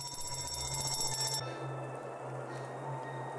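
In the horror driving game Decimate Drive, a telephone rings with a bright electronic trill that cuts off partway through, leaving a steady tonal hum and low engine drone underneath.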